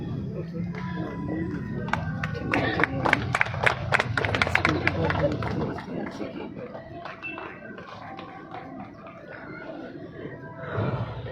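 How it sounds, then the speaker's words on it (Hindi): Bursts of clapping rise from a crowd at an election campaign event over steady chatter, swelling in the middle and fading back toward the end. "जोरदार तालियां"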